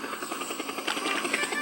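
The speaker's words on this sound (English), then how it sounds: "Harold the helicopter arrived." Harold the helicopter arriving in a Thomas and Friends episode gives a steady, rapid rotor chop that pulses rhythmically and grows slightly louder partway through, with no talk over it.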